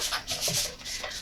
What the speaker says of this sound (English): Lift up the clamp, slide the fabric in.